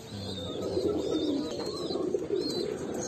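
Pigeons in a loft coo softly and continuously, low throaty rolling calls overlapping one another, with a few faint higher chirps behind them.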